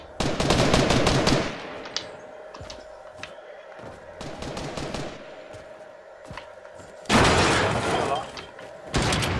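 Bursts of rapid automatic gunfire in the video game Fortnite, loud clustered volleys separated by quieter stretches, with players talking in between.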